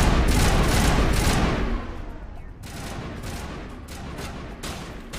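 Rapid bursts of gunfire in Mass Effect rattle loud and close, heavy at first and then thinning into scattered shots over a few seconds.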